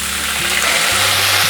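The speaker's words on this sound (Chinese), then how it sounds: "现在放入高丽菜，还有玉米笋。 快速的翻炒，稍微拌炒一下" Cabbage and baby corn stir-frying in a hot pan give a loud, steady sizzle that continues throughout, with a low hum underneath.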